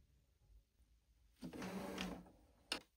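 A Brother ScanNCut cutting machine cuts a stamp outline, with a soft motorized whir that starts after a quiet pause, runs for under a second and ends with a short mechanical click.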